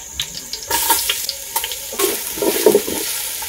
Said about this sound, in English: I'm going to add my cooking oil. I'll go in with my onion.